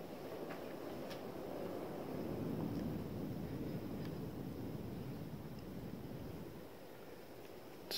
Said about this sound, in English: Listen to that wind blow on the outside of the barn.